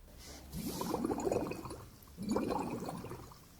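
Water sloshed in a container to imitate small waves, two soft swishing surges, each building and fading, close and quiet with no speech.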